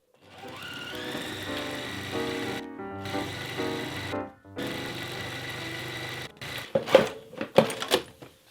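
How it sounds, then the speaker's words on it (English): A sewing machine stitches lines down a fabric bag strap, running in steady whirring bursts with brief pauses between seams, then a few sharp clanks and clicks near the end. "when you're going to stitch these lines down, if you want, you can start with one line down the middle"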